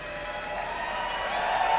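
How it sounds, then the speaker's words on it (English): A large crowd at a Dota 2 esports match roars and cheers in a broad, sustained wash of noise that swells toward the end. "Listen to that crowd."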